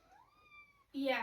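A pet cat near a cat tree gives a single drawn-out meow, thin and fairly quiet, followed by a louder, brighter cry at the end.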